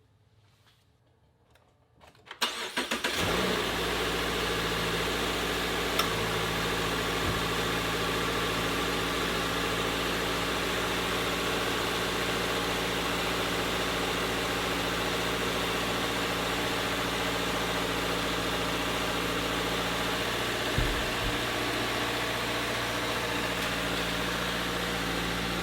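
A Subaru Crosstrek engine cranks and catches after a short quiet moment, then settles into a steady, close idle with a constant low hum that runs unbroken to the end.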